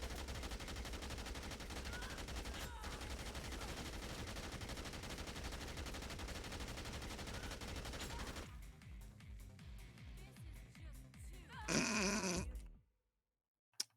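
Sustained rapid gunfire from a boss fight in the video game Dead Rising 2 rattles on continuously for about eight seconds, then thins into mixed game effects, a brief loud burst and sudden silence.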